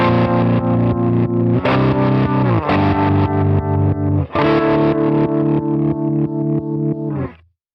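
Guitar through a CorOS 3.1.0 harmonic tremolo set to a saw-up waveform: loud distorted chords restruck about every second, each swelling in a ramping pulse, unaccompanied, fading out at the end.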